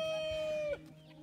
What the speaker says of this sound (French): Le jeune coq, c'est Citrix. Et nous avons déjà quelques poules en ponte